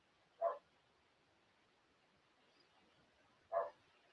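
Two faint, isolated dog barks from outdoors, spaced about three seconds apart, distant against a quiet background.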